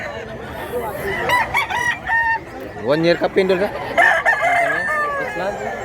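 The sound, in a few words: rooster crowing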